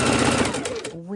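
A sewing machine stitches 3.5-inch quilt strips together in a steady, rapid close-up whir that stops abruptly near the end, with a voice starting to speak.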